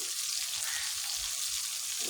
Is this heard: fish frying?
yes